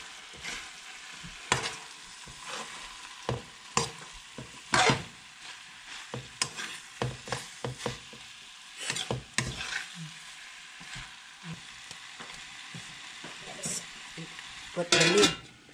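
Shrimp and bitter melon stir-fry in a hot pan, a continuous close sizzle broken by repeated scraping clanks of a utensil against the pan at an irregular rhythm.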